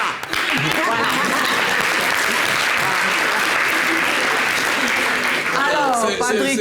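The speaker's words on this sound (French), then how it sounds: "Applaudis maintenant, bien." Loud, sustained applause from a studio audience at a French-language variety show fills the whole stretch as dense, steady clapping, with voices mixed in toward the end.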